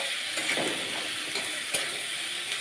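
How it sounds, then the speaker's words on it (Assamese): Garlic frying with salt in a pan for an Assamese khar dish, giving a steady close hiss of sizzling with a few stirring scrapes and a sharp clink near the end. "নিমখ দি অলপ সময় ভালকৈ ভাজি থাকোঁ"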